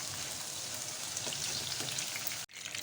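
Green beans frying in oil in a pan, a steady close sizzle and crackle running unbroken until a brief cut near the end.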